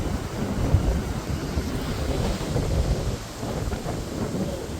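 Strong wind gusting across the open deck of the Norwegian Bliss cruise ship in Alaska, a steady loud rumbling buffet with low roaring surges and no talking.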